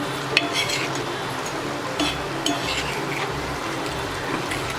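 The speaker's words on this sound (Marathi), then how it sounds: "आता हे बघा आपण त्याला परतून घेऊया।" Masala egg fry stir-fried on a tawa: steady close sizzling with scraping spatula strokes and occasional metallic taps, continuous and fairly loud with no talk.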